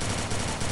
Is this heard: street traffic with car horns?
no